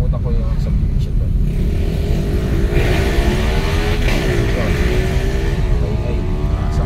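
A motorcycle with an open muffler passing on a road at night during a typhoon, a loud continuous engine drone that rises and falls as it goes by, under steady traffic and wet-road noise.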